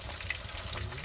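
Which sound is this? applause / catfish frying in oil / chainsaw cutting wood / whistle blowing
catfish frying in oil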